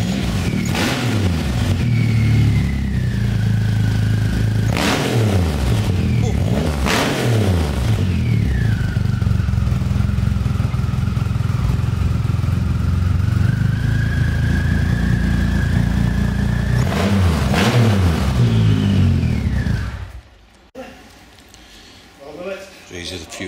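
A Triumph Rocket 3 motorcycle with custom paint starts up and settles into a loud, close idle, with several sharp throttle blips spaced through the run before the engine cuts off and leaves a quiet tail.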